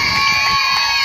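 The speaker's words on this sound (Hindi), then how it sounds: "बच्चों एक बार ताली मारिए जोर से चिल्ला कर ताले।" A crowd of children clapping and shouting loudly to honour a visiting performer at a welcome ceremony, a dense, constant roar of voices and hands with a few voices rising above the mass.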